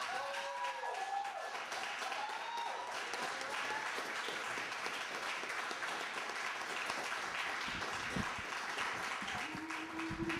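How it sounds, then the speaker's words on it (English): Audience applause at a library poetry reading after a poem is read, a steady wash of clapping across the whole stretch, with faint voices and tonal murmurs early on and brief low tones near the end. "Let's give Brother Jess another great round of applause."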